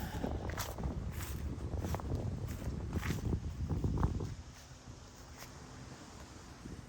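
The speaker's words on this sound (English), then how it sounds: "it is a nice breezy day out." Breezy outdoor wind gusts rush across the microphone in a cemetery, loud and blustery for about four seconds, then easing into a softer, steady breeze.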